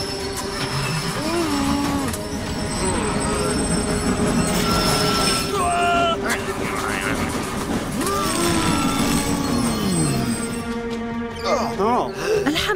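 Animated cartoon super train rushing along its rails with a constant rumble, squealing wheels and rising whistle-like tones, cartoon voices chattering over it throughout.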